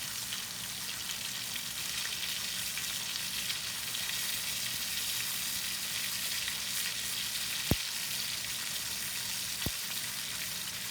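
A ribeye steak sears in a pan with a steady, close sizzle throughout, broken twice by sharp clicks or taps near the end.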